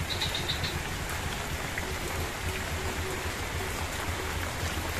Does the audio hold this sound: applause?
no